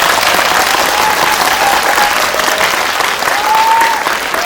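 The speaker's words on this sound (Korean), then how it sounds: "배우님들께 박수 한번 부탁드릴게요" A large cinema audience claps in sustained, dense applause for actors at a film Q&A, loud and even, with a faint tone drifting above it.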